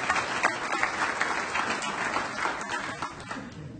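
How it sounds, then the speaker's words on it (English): A school awards evening audience applauds steadily for a few seconds, a dense wash of clapping that tapers slightly toward the end. "Let's have a round of applause for all of these"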